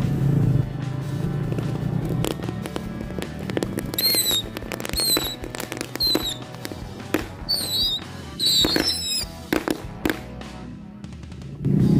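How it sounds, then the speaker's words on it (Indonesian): A bundle of rocket torch firecrackers goes off buried in the ground, a rapid irregular crackle of pops and bangs with shrill whistling bursts and fizzing, close and loud throughout. "Selanjutnya 1 pak mercon rocket torch. Kita ikat seperti ini biar bisa nyala semua."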